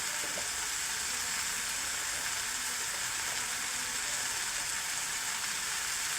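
Carrot and tomato vegetable stir-fry sizzles in a pan with an even, steady hiss from start to finish, close and continuous, with no voices.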